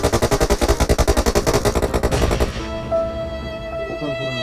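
Gunfire in the video game PUBG, a rapid automatic burst of about twenty closely spaced loud shots lasting over two seconds, then a ringing, fading tail.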